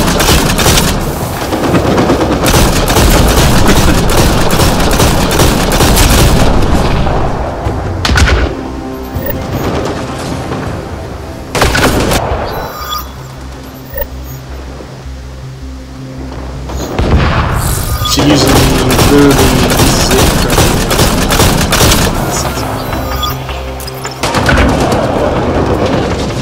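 Loud, sustained gunfire from the shooter Apex Legends rattles in dense bursts and volleys, broken by a quieter lull midway before the shooting resumes heavily.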